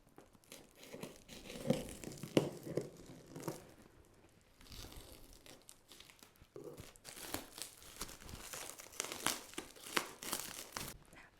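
Cardboard and plastic packaging crinkle and tear as an A 32 electro autoclave is unpacked from its box, in close, irregular bursts of rustling with brief quieter pauses.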